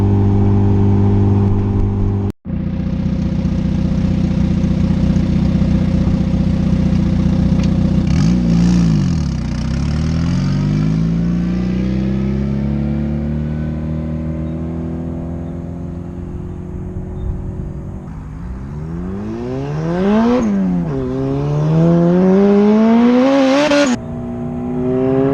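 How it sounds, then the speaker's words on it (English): A turbocharged Honda CR-V with four-wheel drive accelerates hard on the street, its engine note climbing and dropping through several gear shifts, then revving up again in two sharp rising pulls near the end, loud and close. "Nothing like banging gears in a four-wheel drive, right?"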